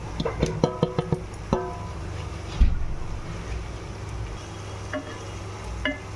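A spoon stirs turmeric, Kashmiri red chilli powder, homemade red masala and chicken masala frying in a pan for Hyderabadi chicken masala, with a run of sharp scraping clinks early on, then a steady soft sizzle and a few more scrapes.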